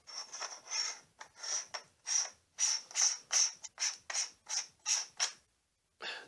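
Threaded DSLR camera adapter being screwed onto a telescope nosepiece, giving a series of about a dozen close, rhythmic ratcheting scrapes and creaks with brief gaps, ending in a short pause before one last turn.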